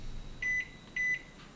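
Microwave oven humming with two clear electronic beeps in close succession, each about a fifth of a second long, over a faint steady running drone while plastic heats inside; near and fairly quiet, with no talking.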